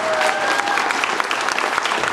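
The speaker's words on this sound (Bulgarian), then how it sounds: "Аплодисменти за тяхната подкрепа." A concert audience in a community hall applauds continuously, a thick, even wash of many hands clapping heard at close range with no break.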